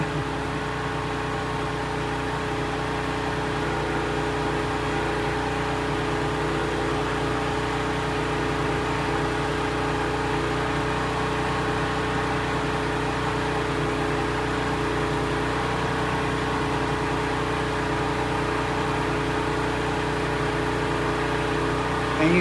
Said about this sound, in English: the generator is not providing a charge now